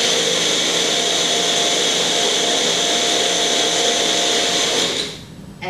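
A countertop blender runs at full power mixing a Shakeology shake, a loud steady whirring roar that holds for several seconds before winding down abruptly near the end.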